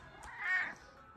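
A cat at home lets out a single drawn-out meow, fairly close and clear, rising and fading over about a second with faint room noise around it and no talking.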